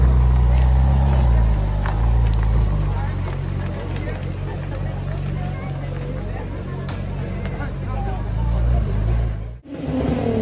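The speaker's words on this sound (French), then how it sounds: "Elle fait un bruit cette Nissan." A Nissan car's engine rumbles loudly nearby at a motor festival, a deep steady idle under crowd chatter and talk, then cuts off abruptly near the end.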